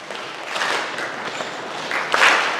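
Audience clapping during a spoken-word performance about the Clotilda ship, a steady wash of hand claps at moderate loudness that swells toward the end, with no voices over it.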